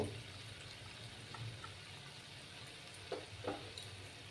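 Water comes to a boil in a pot for a tangra fish curry, with a faint, steady bubbling simmer and a few soft pops and clicks close by.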